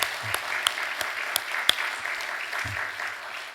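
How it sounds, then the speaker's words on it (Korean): A church congregation claps together in a steady patter of applause at moderate distance, with some sharper individual claps standing out and a faint voice underneath. "우리 모두에게 감사와 격려의 박수를 드리겠습니다."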